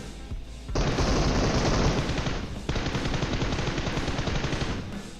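Automatic gunfire rattles loudly in PUBG Mobile during a duo match, a brief pause before a heavy burst, then sustained rapid fire that runs to the end with no voices.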